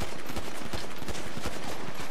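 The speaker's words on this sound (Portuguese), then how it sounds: "Dei três tiros." Rapid pistol gunshots in GTA Online, a dense burst of sharp cracks fired in quick succession, loud and close, with no speech over them.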